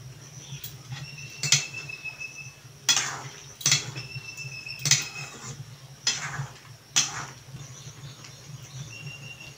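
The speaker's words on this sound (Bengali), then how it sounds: "1 চামচ হলুদ, 2 চা চামচ মরিচ গুঁড়া দিয়ে আমি এটা নেড়ে চেড়ে নিলাম" Mutton with turmeric and chili powder is stirred in a pot: a spoon scrapes and clinks against the metal in irregular, soft strokes over a low, steady background hum.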